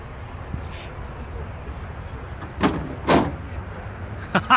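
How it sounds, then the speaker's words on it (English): Quiet background with a few soft mechanical clunks and whirs of car headlights rotating open, two close together near the middle and another pair at the end. "You want to see the headlights rotate?"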